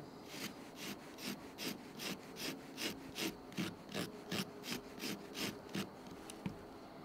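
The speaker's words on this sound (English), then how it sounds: "I'm sure there are thousands other things you can grate with the wood saw" Lemon peel grated against the wood saw blade of a Victorinox pocket knife, a steady series of about fifteen rhythmic rasping strokes, close and clear with no talking.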